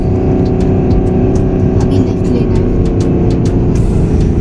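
A car engine drones loudly and steadily as it climbs uphill in first gear on a mountain road near Tawang, a constant low strained hum heard from inside the vehicle.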